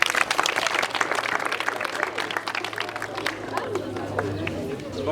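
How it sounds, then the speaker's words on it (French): Students in a school in Congo applaud together, a broad crowd of clapping hands with some chatter and voices mixed in, fairly distant and fading slightly toward the end. "Applaudissez, on écoute."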